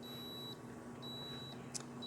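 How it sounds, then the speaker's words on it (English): A walk-in cooler's high box temperature alarm beeping, with steady high-pitched electronic tones about half a second long repeating at a regular pace over a constant mechanical hum, with no voices. "high box temperature alarm"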